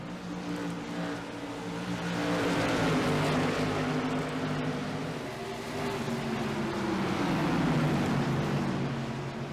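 Stock race cars circle the track at Five Flags Speedway during the Extra Life 300, a pack of engines droning and swelling together in steady waves, heard from trackside.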